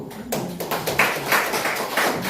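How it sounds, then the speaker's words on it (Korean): An audience applauds a guest lecturer at a constitutional forum, a dense wash of hand claps that is steady and moderately loud throughout, with no speech over it. "오늘 강연을 해주시는 박인영 의원님께 한번 큰 박수로."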